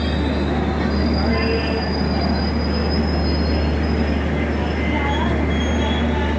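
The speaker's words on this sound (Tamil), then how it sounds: "இப்போ அந்த ட்ரெயின் வந்து கிளம்பிடுச்சு." A train with AC sleeper coaches pulls out of Katpadi Junction railway station, its wheels squealing in long, high, sustained tones over a constant low rumble that holds steady throughout.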